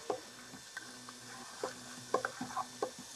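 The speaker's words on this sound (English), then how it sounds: "I'm going to move the onions around and the garlic." Onions and garlic sizzling softly in a pan while being stirred, with a low steady fry and scattered scraping taps of the utensil, no talking.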